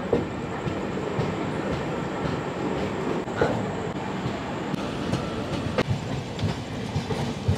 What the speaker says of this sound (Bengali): ঘড়িতে সময় এখন 10টা 21, এখন ট্রেন ছেড়েছে।